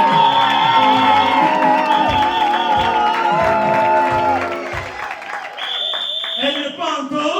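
Audience at a church graduation ceremony cheering and applauding a graduate, a loud dense wash of clapping, whoops and shouting voices throughout.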